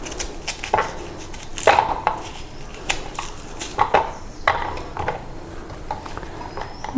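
Vegetables are chopped into small pieces, with an irregular series of close knife taps on a board mixed with light kitchen clatter and faint background hiss.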